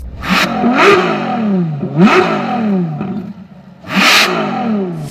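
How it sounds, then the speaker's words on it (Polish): A Ferrari V12 engine revs hard in repeated loud surges, each rising whine followed by a dip, close and without any talk. "V12 od Ferrari, no to jest po prostu coś nie do podrobienia."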